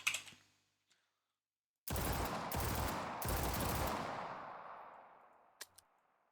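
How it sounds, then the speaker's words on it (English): Bursts of rapid SMG11 gunfire in an Unreal Engine 5 COD Zombies game: a short crack, a pause, then three close, loud automatic volleys that trail off into a fading tail, with a couple of faint clicks afterward. "the weapon sound glitches for some reason"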